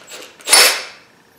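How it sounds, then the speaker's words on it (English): A single sharp snap with a short scraping decay as the screw inside a cordless drill's chuck breaks loose under an Allen wrench, loud and close, alone. "you hear that snap? I broke it loose."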